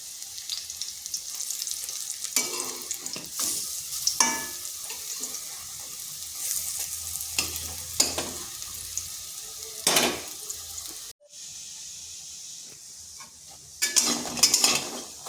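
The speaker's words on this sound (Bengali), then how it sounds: "এগুলোকে এইভাবে উল্টে পাল্টে একটু লাল লাল করে ভেজে নিচ্ছি।" Oil sizzles steadily while eggplant pieces are turned and stirred until browned, with occasional scraping clatter and a brief gap near the end.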